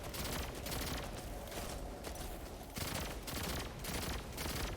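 Enemy AI gunfire striking a wall in the game Destiny, during a solo lost sector: dense, continuous automatic bursts with a few brief dips, loud and without talk.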